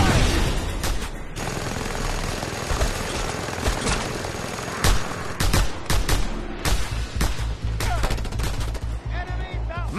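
Gunfire from the Just Cause 2 video game: loud, dense bursts of automatic fire and single shots, with an engine drone underneath and a few heavy impacts, close and continuous throughout.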